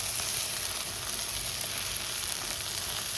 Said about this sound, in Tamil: எல்லாம் நல்லா வதங்கிட்டு இருக்கு